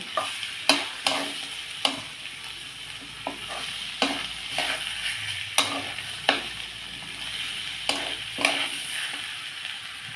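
Rice and vegetables stir-fried together in a pan for khichuri, with a steady sizzle and repeated sharp scrapes and clatters of a spatula stirring at an irregular pace.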